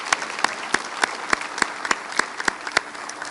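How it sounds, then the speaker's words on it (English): Scattered, moderately loud clapping with distinct individual claps from a graduation audience applauding Mrs. Simoneau, steady throughout. "let's give another round of applause to Mrs. Simoneau"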